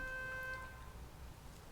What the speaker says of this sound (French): Oh, encore les voisins. Ça klaxonne.